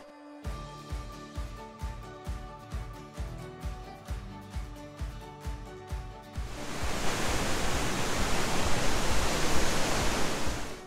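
A river with waterfalls roars as a steady, loud wash of rushing water, rising to fill the second half after a passage of rhythmic tones.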